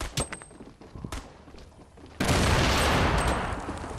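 Frag grenade blasts in the video game Fortnite: a few scattered thuds and shots at first, then a sudden loud explosion that roars and slowly fades.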